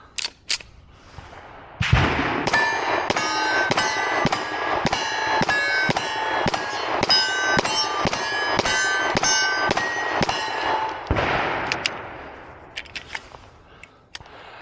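A Girsan Match-X pistol, a budget 2011-style handgun, fires a rapid string of about fifteen loud, sharp shots at an outdoor range, evenly spaced, with a few scattered shots before and after.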